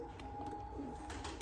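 Pigeons coo softly in a pigeon loft, a faint low throaty murmur over steady background hum with no speech.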